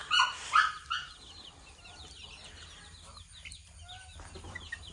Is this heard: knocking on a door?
no